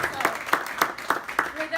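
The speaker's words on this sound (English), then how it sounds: "I think, deserves a round of applause" Applause at a ribbon cutting for the restored Beehive building, a short burst of rhythmic hand claps, about seven distinct claps close by, with voices faintly underneath.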